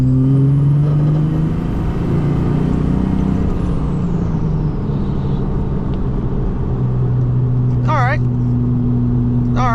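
A 700hp big-turbo Cummins diesel in a second-generation dually truck swap drives along with a loud, steady low drone and a turbo whine that climbs then fades. A voice briefly talks near the end.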